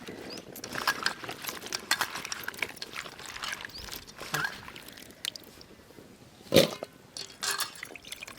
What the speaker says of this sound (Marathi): वांगे आलू टमाटे हे कापून घेतले आता धुवून घेतो